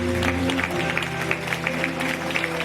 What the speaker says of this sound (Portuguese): Você pode aplaudir o Senhor esta noite?